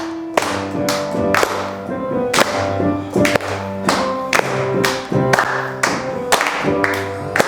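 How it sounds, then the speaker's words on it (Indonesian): A group of children and adults claps hands in a lively, uneven rhythm, with sharp repeated claps close by and no talking over them. "yuk tepuk tangan semua"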